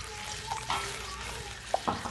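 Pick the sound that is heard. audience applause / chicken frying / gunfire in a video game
chicken frying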